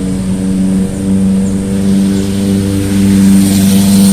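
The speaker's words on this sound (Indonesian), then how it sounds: "suara motornya unik." A motorbike engine idles steadily at a wetland area of Tebet Ecopark in Jakarta, a loud continuous low drone with a slight swell near the end and no voices.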